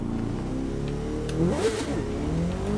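A Honda CBR1000RR SP motorcycle in The Crew 2 revs hard in first gear, its engine note climbing and swooping in a loud, close whine with a sharp peak midway.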